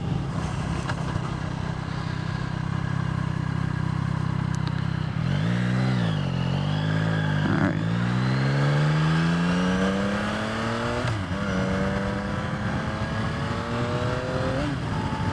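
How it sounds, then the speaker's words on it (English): A 2023 Yamaha XSR 900 motorcycle accelerates hard, its engine note climbing steeply through several quick clutchless upshifts, each marked by a brief drop in pitch before rising again, loud and close over steady wind rush. "Shifting up without the clutch."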